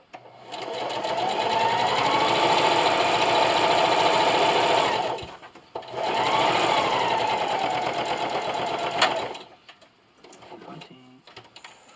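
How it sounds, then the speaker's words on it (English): A sewing machine top stitches around the edge of a reversible fabric placemat, running steadily and loudly up close in two long bursts separated by a brief pause, then stopping. "Leave my needle down, raise my presser foot, and spin. And continue sewing."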